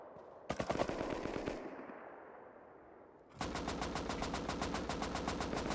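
Rust gameplay gunfire: a short, loud burst of rapid automatic shots, a lull of fading ambience, then a longer sustained stream of evenly spaced close shots with no voices over them.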